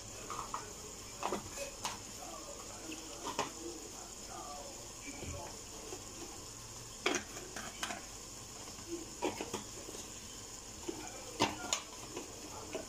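A spoon stirs chicken palak in a pan, with a soft scraping and sizzle at a steady low level, close by, and occasional clinks against the pan and faint background sounds.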